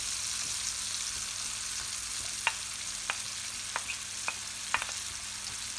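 Curd cheese going onto softened peppers frying in a pan, under a steady soft sizzle with a few sharp faint clicks and taps spread across it, no voices.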